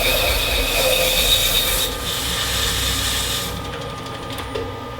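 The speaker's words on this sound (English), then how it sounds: "run through each grit just like I would if I was dry sanding." Steady, harsh rubbing of sandpaper against wood during wet sanding with walnut finishing oil, continuous and close, easing slightly partway through.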